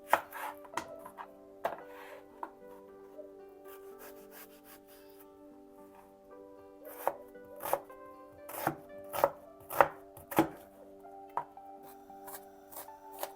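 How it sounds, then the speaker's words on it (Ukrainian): A knife chops an onion repeatedly on a cutting board, sparse at first and then a quicker run of sharp, close taps. "Так, нарізаю цибулю."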